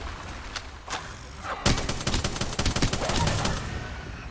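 Bursts of Apex Legends gunfire: after a quieter start with a few scattered shots, a dense rapid volley breaks out and keeps going, loud and close, with a faint voice briefly underneath.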